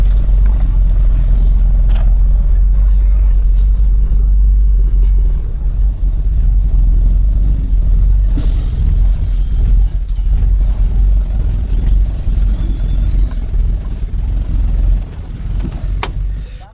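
A heavy Eicher truck engine runs with a low, steady rumble heard from inside the cab, joined by rattles and clunks, with little change over the whole stretch.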